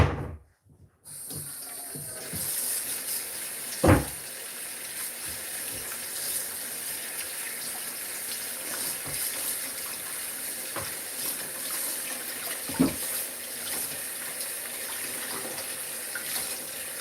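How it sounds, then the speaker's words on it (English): Tap water runs steadily into a kitchen sink during handwashing, a continuous close hiss and splash after a brief start, broken by a few knocks and clatters. "I just need to wash my hands."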